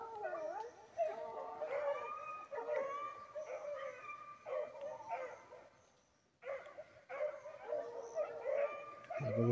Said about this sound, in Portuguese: Torinho, que povo de cachorro esse aí. Uma tocada bonita embaixo aí.